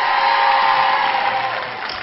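Audience on a French television variety show breaks into applause, a dense, steady wash of clapping that holds for about two seconds and eases slightly toward the end.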